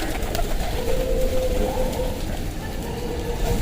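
Homing pigeons released outdoors, soft cooing murmurs rising above a steady rumbling background, with faint shuffling, continuous and moderately close.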